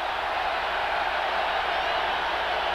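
A noisy stadium crowd of over 60,000 at a college football game, Houston at Illinois, roars as a dense, steady wash of cheering throughout, with no clear talk on top.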